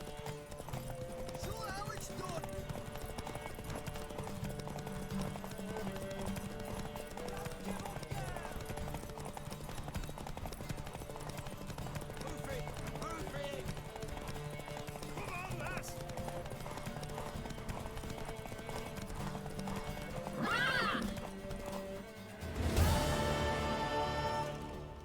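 Horse hooves clip-clopping in The Witcher 3, steady rhythmic steps under character dialogue, with a neigh late on followed by a louder burst of movement.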